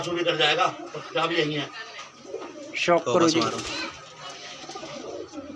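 Punjabi Madrasi and desi pigeons cooing at a pigeon shop in Trilokpuri, repeated low rolling coos mixed in with a man's nearby speech, fairly close and steady.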